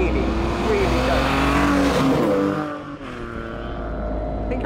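A Morgan Super 3 three-wheeler with a non-turbocharged Ford three-cylinder engine pulls hard under acceleration, its steady loud drone rising in pitch through the gears, with a brief dip around a gear change.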